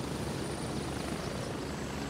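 Helicopter in the video game Gray Zone Warfare, a steady low thudding rotor drone that holds at an even, fairly loud level throughout with no talk.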